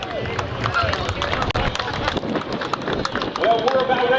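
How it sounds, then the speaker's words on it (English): Crowd at a Memorial Day air show on Jones Beach, New York, applauding a pilot, dense clapping and babble mixed with wind and outdoor noise, fairly loud and continuous. "Ladies and gentlemen, nice round of applause for Dan Damio."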